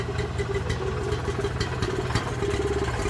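An old vehicle with a carburetor and gravity-feed fuel tank idles at close range, a steady low rumbling chug with a faint rhythmic clatter over it.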